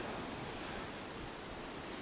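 Waves lap steadily on the shore at Ilfracombe, a soft continuous wash of surf at moderate distance with no pauses and no voices.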